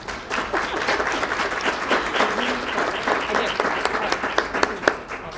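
Lively audience applause for the presenter at a marketing plans workshop, with a few sharper individual claps standing out near the end and voices faintly mixed in.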